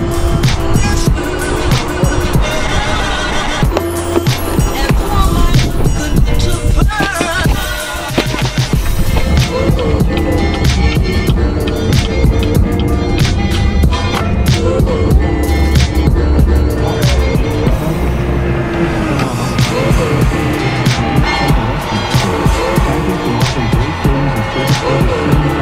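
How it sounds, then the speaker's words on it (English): Loud street traffic in Orlando with cars roaring past nearby, a dense, continuous rumble and engine noise that stays strong and close throughout, with brief surges as individual vehicles pass. "you can probably hear the cars and stuff"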